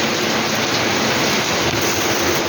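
Heavy typhoon rain lashing an island, a loud, dense and unbroken roar of downpour hitting surfaces close by, steady from start to finish with no voices.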